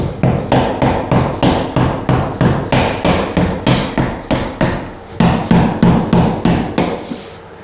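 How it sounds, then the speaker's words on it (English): Steel chisel hammered against a pipe fitting during a shower renovation, a steady run of sharp, loud metallic strikes roughly every third of a second, close up and alone, with a brief pause midway. "Take our chisel and we're just gonna pry it all off."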